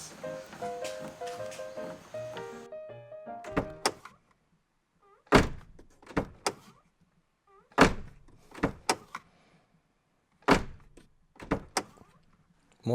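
A Suzuki Jimny JA22 car door fitted with a chrome JB23 Jimny door handle is opened and shut repeatedly, giving a series of loud, close latch clicks and solid thunks after a short stretch of background music.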